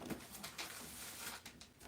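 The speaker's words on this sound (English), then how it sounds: "there's a bird outside" A dove or pigeon calls from outdoors, faint and distant, behind a low steady room hum with no talk.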